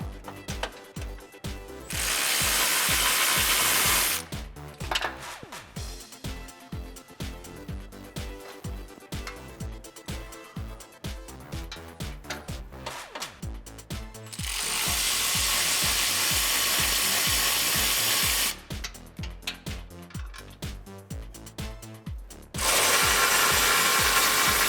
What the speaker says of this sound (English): Now with our 13mm, we're gonna go ahead and remove the bolt that goes in from the side first.